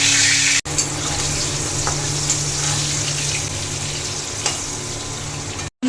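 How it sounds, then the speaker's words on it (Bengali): Potatoes sizzling steadily in hot mustard oil with salt and turmeric, a loud continuous frying hiss with occasional faint stirring clicks, close up and without talk. "তেলের মধ্যে অল্প করে একটু নুন, অল্প করে হলুদ দিয়ে দেবো আলুটা ভাজার জন্য"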